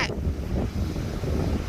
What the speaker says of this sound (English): It was the waves.